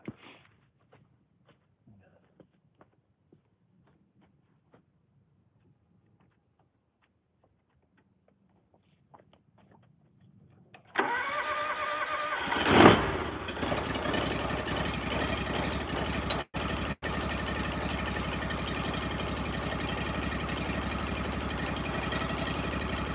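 A log-cutting sawmill engine cranks and catches after a quiet stretch, then settles into a loud, steady idle with a brief surge as it fires up, running continuously close by.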